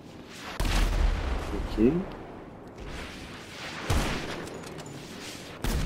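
Sniper rifle fire in a video game cracks out in a few loud bursts spaced several seconds apart, over busy game noise, while someone speaks briefly.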